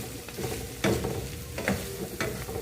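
Creamy butter tofu sauce simmering in a pan, with steady low sizzling and a few louder stirring scrapes spaced about a second apart.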